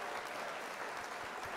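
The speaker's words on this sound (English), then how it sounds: "Let's do the old applause." An applause sound effect played on a livestream, a brief burst of steady crowd clapping with no talk over it.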